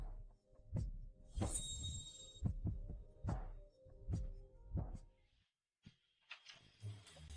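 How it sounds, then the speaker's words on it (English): A fast heartbeat effect in a romantic drama, with heavy, evenly spaced low thumps pulsing loudly and alone before fading into a brief quiet stretch. "Is your heart beating fast, too?"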